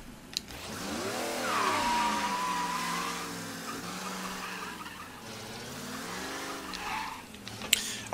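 A car in the Mafia video game skids with a sustained tire squeal over a rumbling engine, holding steady for several seconds before fading, with a sharp knock near the end.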